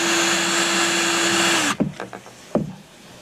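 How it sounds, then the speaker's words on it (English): A power drill whirs steadily as it bores into a Trackmaster toy train, then cuts off abruptly, followed by a few sharp clicks and knocks of handling the plastic workpiece, close up with no talk. "now I'm just going to drill to get that little bit out."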